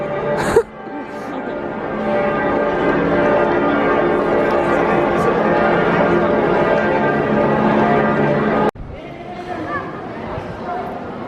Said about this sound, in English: And all the bells are ringing, but it's only 10 to 6.